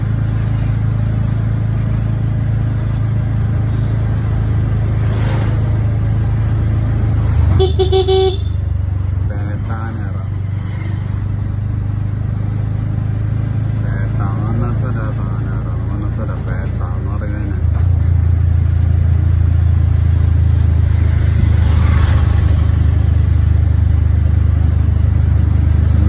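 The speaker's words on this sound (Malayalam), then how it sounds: "ഓട്ടോറിക്ഷയിൽ നമ്മൾ പോയിക്കൊണ്ടിരിക്കുക." A CNG auto rickshaw rides through town traffic in Trivandrum, Kerala, its engine droning steadily throughout with passing vehicles and a couple of horn toots, while someone talks over the ride.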